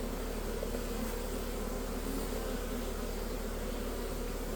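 Honey bees in a mini mating nuc give off a steady, dense buzzing drone close by, continuous and even throughout with no pauses and no talking.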